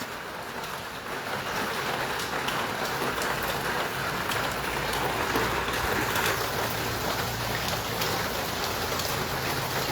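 Rain falls steadily on a village house, a broad continuous patter and hiss that swells slightly after the first second and holds evenly throughout.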